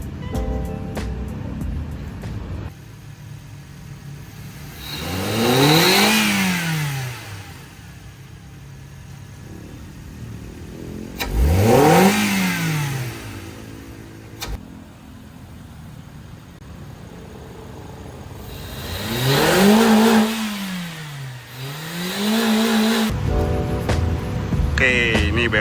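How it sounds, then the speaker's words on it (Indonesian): A 2009 Suzuki SX4 car engine idles steadily throughout, with loud rev-like sweeps rising and falling three times, and faint talk at moments. "Mesin juga udah nyala"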